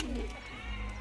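Low, soft cooing from a Madrasi pigeon, a steady muffled murmur running through the whole short moment with a faint hum beneath.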